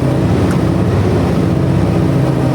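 A loud diesel boat engine drones steadily at close range, a deep continuous rumble with no pauses and no voices, from a boat handling a 70-foot-long pipe.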